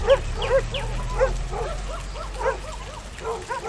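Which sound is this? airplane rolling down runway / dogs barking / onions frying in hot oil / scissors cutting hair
dogs barking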